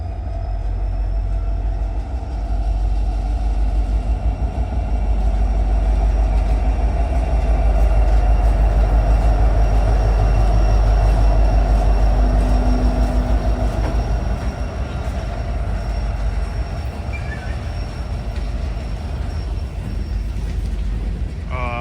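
A BNSF freight train rolls steadily past close by, a heavy continuous rumble with rhythmic clacking of wagons over the rails that stays loud throughout.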